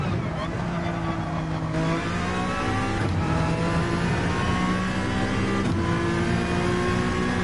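A Honda NSX in the Gran Turismo racing game revs hard through braking and downshifts, its engine note rising and falling in steady harmonic sweeps. Someone talks over the continuous engine sound.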